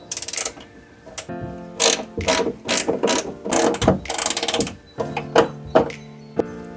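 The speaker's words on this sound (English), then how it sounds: "Want to remove a 10mm bolt up here and 10mm bolt down here." Ratchet wrench loosening 10mm bolts on a Toyota Celica door, loud close bursts of fast clicking in short repeated strokes separated by brief pauses.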